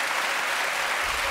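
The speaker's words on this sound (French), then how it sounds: "Applaudissements parce qu'ils sont visiblement extrêmement heureux." A television studio audience on a French talk show applauds, a continuous wash of many hands clapping, steady and moderately distant, with a low rumble near the end.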